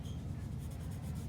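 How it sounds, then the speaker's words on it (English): Soft, steady scratchy rubbing of a pencil held on its side shading an artist trading card on paper, faint and close with no pauses. "you can hold your pencil on the side and just very softly color it in using the side of your pencil"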